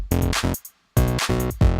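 Clap sample playing in a plain rhythm within a music loop, a few strong hits with a short silent gap, loud and close.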